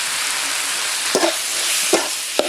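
Ground snail paste, blended with fennel and cumin, goes into a pan of onions and tomatoes frying for a snail gravy, giving a steady close sizzle with a few soft stirring knocks and scrapes.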